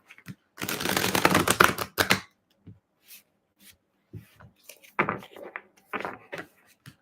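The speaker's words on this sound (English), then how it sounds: "Just a few more shuffles." A burst of rapid riffle-shuffling of tarot cards, followed by a few softer taps and shuffles with short pauses, close and quiet.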